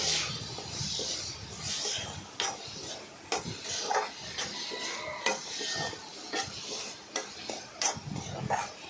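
Masala ivy gourd frying in a pan with salt, chilli powder and turmeric, a spatula scraping and stirring in irregular strokes over a soft sizzle, close and fairly quiet.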